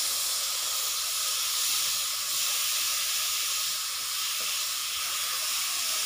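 A steady, loud sizzling hiss runs throughout as spice masala and tomatoes sauté in a pan for mango biryani, with no pauses or voices.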